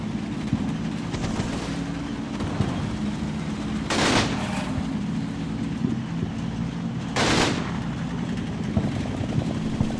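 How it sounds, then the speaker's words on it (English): Machine gun fire in the Combat Mission WWII tactical game: a steady low mechanical drone of battle noise, interrupted twice by short, loud bursts of rapid gunfire, no voices. "The CR machine gun draws attention to itself by firing at their tanks."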